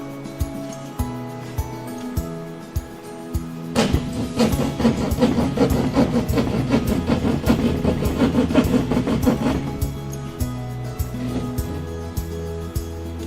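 Utility knife cutting out a damaged section of drywall, a loud rasping scrape lasting several seconds between quieter clicks and taps, close to the mic.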